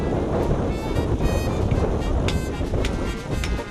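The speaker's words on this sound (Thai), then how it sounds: "เกิดลมพัดแรงดู จากแรงลมนะครับต้นไม้รอบแปลงนา ต้นข่าวนั้น ปลิวไหวไปตามแรงลมเลยล่ะครับ" Strong wind gusting over a rice field, roaring and buffeting steadily against the microphone with brief rustling bursts, loud and continuous with no voices.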